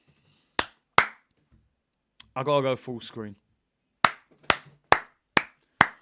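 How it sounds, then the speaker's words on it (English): Sharp, separate hand claps ring out close by, two at first, then a brief spoken line, then five more claps in an even rhythm. "Round of applause, mate."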